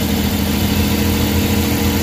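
A freshly overhauled and reassembled Suzuki K6A engine, as fitted to the DA63/DA64, idles with a steady, even mechanical hum, loud and close, with no voices.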